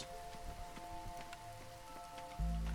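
Light drizzle falls in the video game Against the Storm, a faint pattering bed under sustained musical tones, ending in a sudden low, loud thump near the close.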